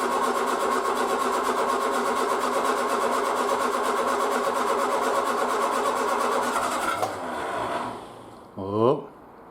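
A Triumph Spitfire engine with a single-carburettor conversion runs at a steady, close, loud idle for about seven seconds, then dies away as a voice speaks.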